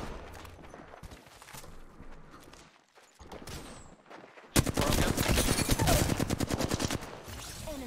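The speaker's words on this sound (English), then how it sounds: "I'm spotted, taking fire" Rapid automatic gunfire in the battle royale game Apex Legends, with scattered shots and game noise building into a loud, sustained burst of fast repeated rounds in the second half.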